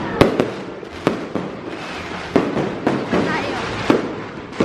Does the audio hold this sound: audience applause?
no